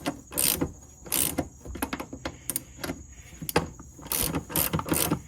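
Bolts on a Mercedes differential are tightened during an axle seal replacement, heard as bursts of quick ratcheting clicks from a hand wrench close up, repeating in short rhythmic strokes with pauses between.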